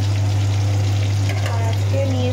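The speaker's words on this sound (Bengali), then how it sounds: "এখানে আস্তে এই যে কলমি শাকটা ভাজা হচ্ছে।" Water spinach frying in a pan with green chillies, a close, steady sizzle over a constant low electrical hum.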